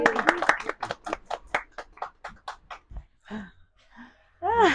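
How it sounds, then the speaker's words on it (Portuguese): A small group claps for a new father, a quick run of distinct handclaps that thins out, followed by a voice speaking at the end. "palmas pro papai!"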